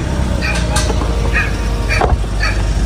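Several faint, distant dog barks and yips at irregular intervals, nearly buried under a loud, constant wash of noise.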